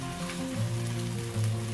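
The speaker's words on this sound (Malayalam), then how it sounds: "ഇനി ഇതിലേക്ക് ഫ്രൈ ചെയ്ത് വെച്ച കാട ഇട്ട് കൊടുക്കാം" Fried quail pieces sizzle and crackle steadily in tomato masala in a pan, a close, continuous frying hiss with no voices.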